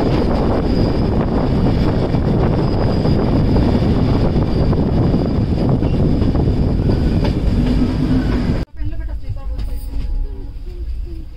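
A train at Bhuj railway station in Kutch rumbles loudly and steadily with rail clatter and wind buffeting the microphone. It cuts off sharply to quieter station ambience with faint voices.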